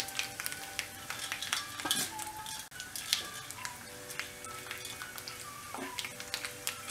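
Dried red chillies, urad dal and chana dal frying in oil after mustard seeds have popped, a quiet crackling sizzle with scattered pops and utensil clinks and scrapes, no talking.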